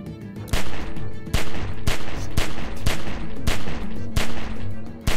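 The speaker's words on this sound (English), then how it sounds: "Remember, don't stop shooting." Rapid gunfire in The Walking Dead video game, a string of loud sharp shots in an uneven but quick rhythm, close and punchy with brief gaps between bursts.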